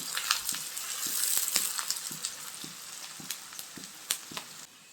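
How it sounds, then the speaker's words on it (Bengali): Chopped onions fry in oil for egg pilaf, giving a bright, steady sizzle close up. A spatula stirs and taps against the pan at a fairly regular rhythm. "এখন পেঁয়াজটাকে আমি লাল করে ভেজে নেব।"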